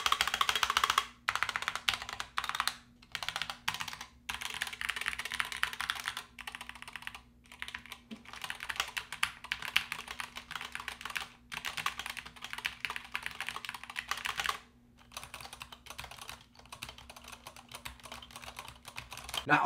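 Rapid typing on a SteelSeries Apex Pro keyboard with magnetic switches: a steady stream of close, crisp keystrokes with brief pauses between bursts, and no talking.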